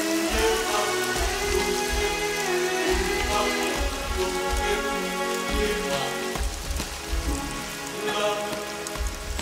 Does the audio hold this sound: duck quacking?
no